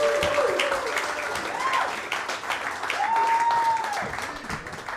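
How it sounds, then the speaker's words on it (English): Comedy club audience claps and cheers for a comedian, sustained applause with scattered whoops and sliding vocal cheers rising over the clapping. "Keep clapping. He's coming."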